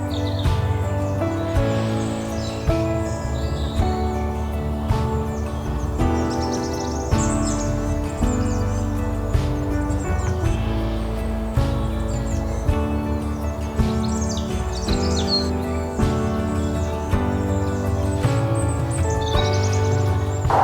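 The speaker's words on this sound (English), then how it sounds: "I have been hearing quite a few birds, mainly robins" Robins and other birds sing in woodland at Brockholes Nature Reserve, with bright chirps and warbling phrases rising over a low, steady background rumble throughout.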